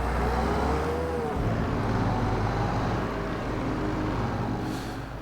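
Lorry engine in Farming Simulator 22, a steady loud low drone running throughout, with a brief shift in tone early on as it settles into a constant hum.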